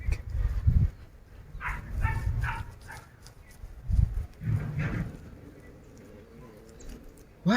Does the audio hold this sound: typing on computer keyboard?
no